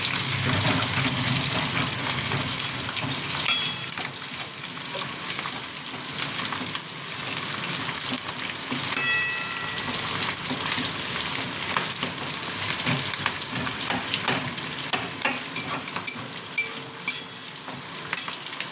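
Chicken pieces for chili chicken fry briefly in a pan, just until lightly reddened: a loud, continuous close-up sizzle with faint scraping and a few sharp clicks near the end, no voices.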